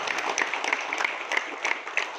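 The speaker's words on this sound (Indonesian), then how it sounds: "Ya, boleh kasih tepuk tangan lagi." An audience at a scouting Jamboree on the Internet station event in Selatpanjang claps steadily, a brief, continuous patter of many hands at moderate volume with no speech.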